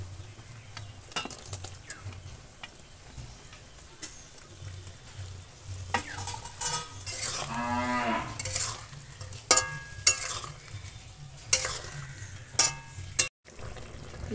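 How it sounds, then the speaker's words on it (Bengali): Fried pakal fish goes into a simmering chili and turmeric spice gravy, with steady sizzling and bubbling, stirring scrapes and occasional utensil clinks against the pan throughout. No one speaks. "মশলা ফুটে গেছে, ভেজে রাখা মাছ দিয়ে দেবো।"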